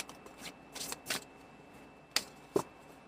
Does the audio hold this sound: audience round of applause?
no